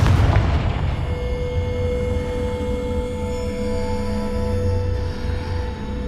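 A Confringo spell explosion in Hogwarts Legacy, a single loud blast at the start that rolls into a long fading rumble with lingering tonal ringing, heard alone without speech.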